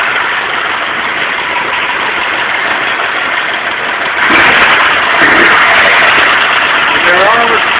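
A 1936 Ford engine idles with a steady, rumbling mechanical drone, close and continuous, growing somewhat louder and busier halfway through as someone talks over it.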